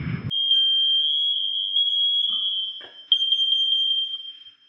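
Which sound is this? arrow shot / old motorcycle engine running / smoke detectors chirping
smoke detectors chirping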